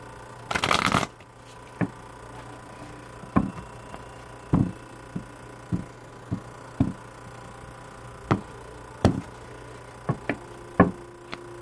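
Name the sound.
tarot cards being shuffled and pulled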